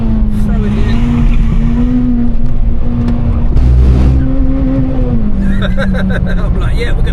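Honda Civic Type R EP3 engine revving hard in second gear through tight corners on a drive, a loud steady drone that rises and falls, with someone talking over it throughout.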